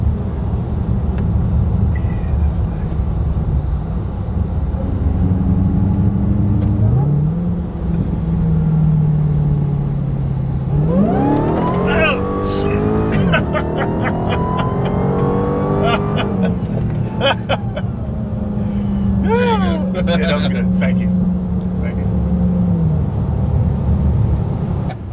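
A 2023 Dodge Charger Hellcat Redeye Jailbreak heard from inside during a ride, its engine droning steadily, then surging through loud revving acceleration runs with shifting pitch, with voices talking over the cabin noise.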